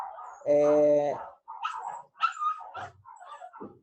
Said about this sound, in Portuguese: se você escutar cachorro latindo, não repare não, tá?